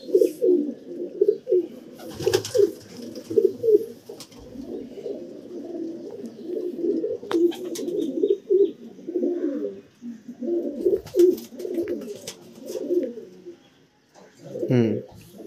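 Racing pigeons coo steadily in a loft, a low continuous murmur of overlapping calls close by, with faint voices and occasional knocks and rustles in between.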